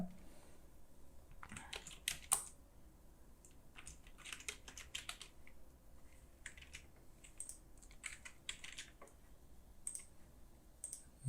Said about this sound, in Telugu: సో నేను టెక్స్ట్ కూడా టైప్ చేస్తాను ఇక్కడ.